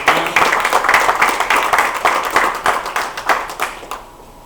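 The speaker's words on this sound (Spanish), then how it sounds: "Así que yo les doy un fuerte aplauso." Church congregation giving a round of applause, many hands clapping fast and loud before tapering off and stopping abruptly near the end.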